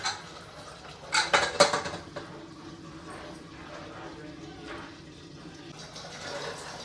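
A metal utensil scrapes and clanks against a pot of mutton curry with ridge gourd and fenugreek a few times, then softer stirring sounds continue over a quiet kitchen background.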